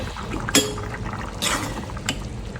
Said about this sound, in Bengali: তরকারিটা কিন্তু বলকাইতেছে